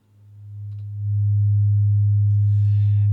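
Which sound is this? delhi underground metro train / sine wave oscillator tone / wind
sine wave oscillator tone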